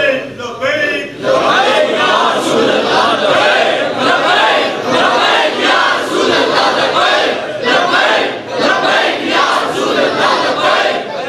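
Large crowd at a certificate-distribution gathering chanting Khatm-e-Nabuwwat slogans in loud, sustained rhythmic waves of voices that swell and repeat throughout.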